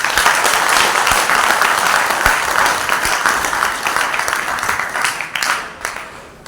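Loud, sustained audience applause welcoming dignitaries at a Sanskrit Day gathering, dense clapping filling the room for several seconds without a break.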